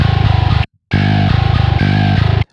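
Bass guitar played through a heavily distorted, compressed preamp with maximum harsh EQ for a metal mix, a dense gritty tone in fast repeated chugging notes, loud and close, with one brief silent gap between phrases.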